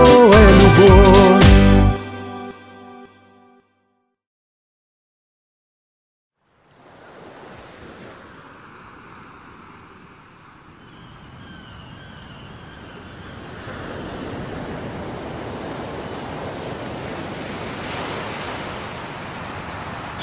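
Sea waves washing onto the Odessa shore, a soft broadband surge rising after a short burst of music and a silent gap, building to a steady, fuller roar of surf and wind.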